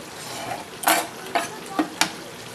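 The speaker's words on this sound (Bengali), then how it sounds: "এবার আমি ঢাকাটা খুলে আর একটু নেড়ে নেব" Chicken kosha curry is stirred in a pan with a utensil, giving a few quick scraping strokes over a soft sizzle.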